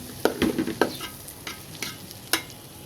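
Raw rice fries in a pan for vegetable khichuri, a soft sizzle punctuated by several sharp scraping stirs of a spatula at irregular intervals, close up and without talk.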